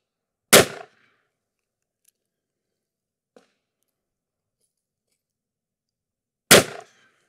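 Two sharp, loud gunshots from a Taurus Tracker seven-shot revolver firing .357 Magnum wadcutter rounds, spaced about six seconds apart at an outdoor range, each a close, cracking report with a short decay and quiet between.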